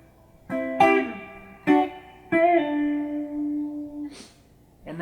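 An electric guitar plays the opening two chords of a song, several strummed chord hits ringing out one after another, close and clear, with no talking.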